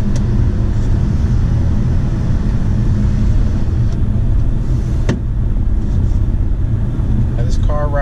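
Steady low rumble of road noise inside a moving 2018 Mazda CX-5, constant and broadband, with a faint tick now and then.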